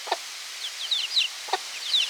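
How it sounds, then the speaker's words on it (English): Chickens in a barn give soft, short clucks and chirpy calls, a few close bursts spaced irregularly over a quiet background. "Oh my goodness, I hope I have hens again."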